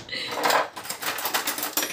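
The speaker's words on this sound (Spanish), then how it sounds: "Espérate, Mari, que no te has preparado los cubiertos." Metal cutlery clinks and rattles against dishes at a kitchen table beside a dish of chicken drumsticks baked with baby potatoes, in short irregular bursts, close and fairly loud.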